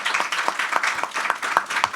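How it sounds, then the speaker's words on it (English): Audience applause at the close of a panel discussion, steady rhythmic clapping at moderate volume, individual claps distinct, with no talk over it. "Please give a round of applause to our panel speakers."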